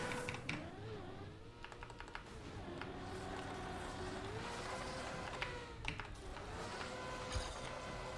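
Fingers type rapidly on a mechanical keyboard with clean-sounding switches, a steady stream of crisp clicks over a continuous background tone.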